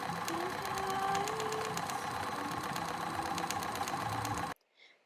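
A sewing machine stitching the length of a folded fabric waistband, a steady fast mechanical whirr with rapid needle ticking, close and continuous until it stops abruptly near the end.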